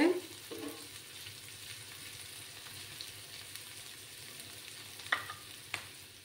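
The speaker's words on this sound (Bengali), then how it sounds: "পেঁয়াজগুলোকে একটু লাল করে ভেজে নিতে হবে।" Onions browning in a pan give a soft, steady frying hiss, fairly faint, broken by a few sharp stirring scrapes and clinks near the start and end.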